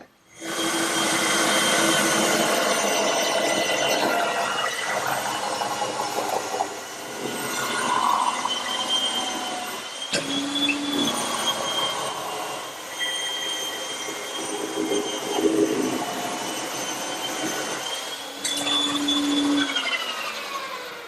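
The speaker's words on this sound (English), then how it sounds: "turn on the saw and spin it around, I'll get a perfect circle" A saw runs continuously as a round tabletop is cut from a spinning wood blank for a chair table: a loud, steady rasping whine that holds for about twenty seconds with slight shifts in pitch and load, and no voices.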